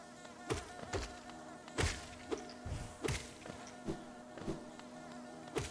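Insects buzzing in the Hollow Knight video game, a steady droning hum under repeated soft thumping beats, moderately loud and close.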